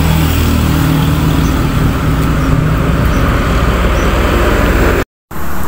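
An Isuzu Elf 4HL1 diesel engine, just fitted with a new bendix drive, runs with a loud, steady, close rumble that holds evenly and cuts out briefly near the end.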